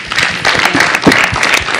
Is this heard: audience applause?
yes